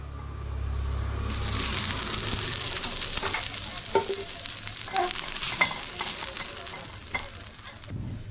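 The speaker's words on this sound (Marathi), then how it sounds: "कांदा भाजून घ्यायचा आपल्या तेलामध्ये खोबरं पण थोडंसं तेलामध्ये भाजून घ्यायचं आपल्याला" Chopped onion and coconut roast in hot oil with a loud, continuous sizzle and repeated scraping stirs, the frying swelling up after a moment and running steadily close by until it cuts off at the end.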